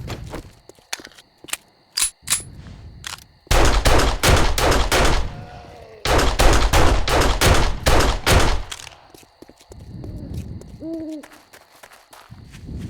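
Rapid bursts of gunfire from the video game 7 Days to Die crack in two sustained, loud volleys, separated by scattered single shots and quieter gaps.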